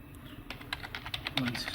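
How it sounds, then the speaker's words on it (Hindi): Soft, quick keystrokes on a computer keyboard while typing a router address into a web browser, a short run of faint clicks with low room noise. "टाइप करना है"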